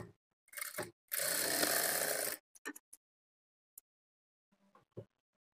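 A sewing machine stitches darts on the front of a blouse in one steady run of a little over a second, followed by a few sparse clicks and handling taps in near silence.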